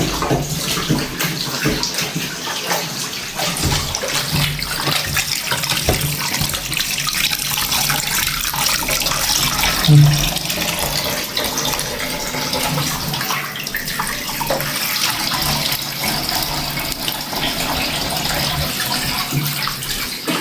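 A running tap pours steadily while chicken pieces are washed under it, a loud, continuous close splash and gurgle of water with small shifts as the pieces are moved, and no speech.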